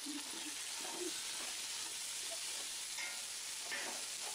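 Biryani masala with tomato pieces being stirred with water in a pot for Andhra-style biryani, a soft wet bubbling and scraping texture that stays fairly quiet and continuous, no voices.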